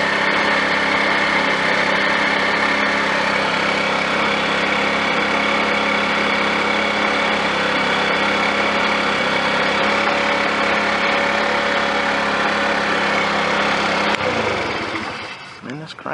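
A small scooter engine runs continuously and loudly at a steady buzzing idle for about fourteen seconds, then cuts out and winds down at the end.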